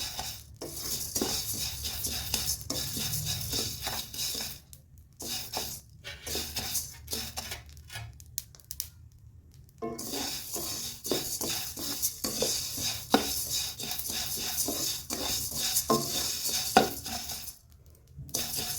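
Coriander seeds dry-roasting for pickle masala in a hot kadhai, a spoon stirring and scraping against the metal in bursts, with a soft crackle and brief pauses between strokes.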